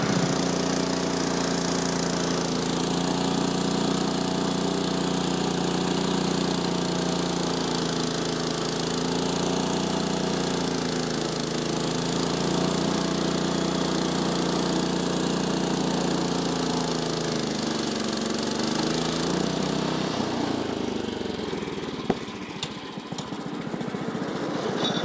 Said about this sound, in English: Make me a veneer cut. It's just a really thin cut.